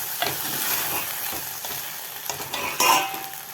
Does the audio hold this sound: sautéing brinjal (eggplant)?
yes